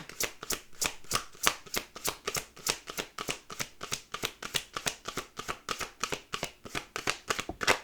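A deck of cards being shuffled by hand: a long run of quick, crisp, evenly spaced riffling flicks, soft and close, with no talk over it.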